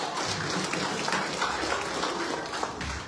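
Crowd clapping at a school gathering, a dense wash of hand claps that carries on without a break for the whole stretch.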